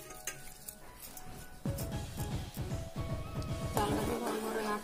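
Washed Gobindobhog rice tipped into a pot for Bengali payesh, then stirred at once, giving a run of close scraping, clinking spoon-and-pan sounds that grow busier and louder toward the end.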